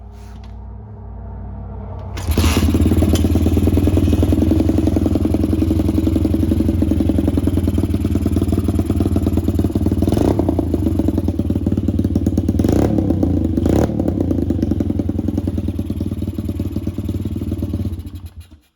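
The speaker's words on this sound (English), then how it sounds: "let me see if I can get it started here while I hold the camera" A Chinese 125cc pit bike engine catches after a short quiet stretch, then runs steadily and loudly up close at a rough, clattering idle for about fifteen seconds before cutting off.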